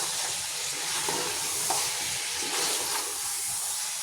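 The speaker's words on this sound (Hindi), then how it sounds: "अब मैं इन सबको मिक्स करती हूँ" Spices being stirred into mutton chaap in a hot pan with dried coriander and salt, a steady close sizzle and frying hiss with soft scraping stirs throughout, no talking.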